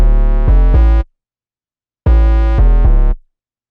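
Layered synth bass with a square wave layer, two short phrases of a few rapid buzzy notes each, separated by a gap of silence, loud and upfront.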